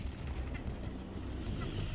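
A deep, rumbling blast from a 24-metre asteroid fragment striking arid ground in what is now northern Arizona, a sustained low roar that stays loud for two seconds.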